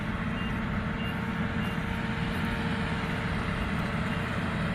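A grain transport truck reverses beside a Kubota WR90 combine harvester in a rice field, its reversing alarm beeping steadily and continuously over a loud, constant engine drone.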